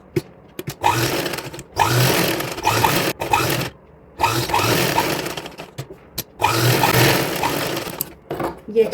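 A sewing machine stitches the side seam of a designer outfit for a 4–5 year old girl, running in steady bursts separated by short pauses, close and fairly loud.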